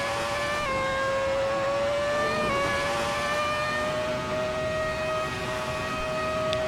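Ferrari F2004 Formula One engine at Monza in a racing game, a loud sustained high-pitched scream that steps abruptly with gearshifts at about 0.7 and 2.5 seconds, then keeps climbing steadily, close and with no talking.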